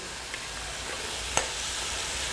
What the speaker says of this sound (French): On va mélanger les oignons et la tomate pour les cuire ensemble.